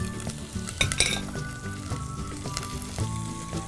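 Curry leaves and green chilies fry in hot oil for dal, giving a loud crackling sizzle with bursts of spitting and a few metal clinks of a spoon against the pot.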